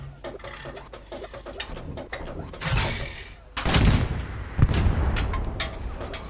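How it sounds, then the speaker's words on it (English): Armor-piercing rounds are fired at a tank in Hell Let Loose, producing a scatter of sharp gunshots and a couple of heavy booming blasts in the second half over a background of game ambience and bird calls. "just shoot it 2 times with AP and it will despawn"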